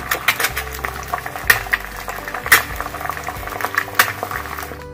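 An egg fries in a little white oil in a pan with chili powder and salt, giving a steady bubbling sizzle broken by sharp crackles and pops at irregular intervals, close and fairly loud with no talking.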